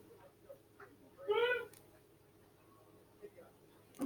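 A pet cat called Voodoo lets out one clear, fairly loud meow of about half a second against a quiet indoor background.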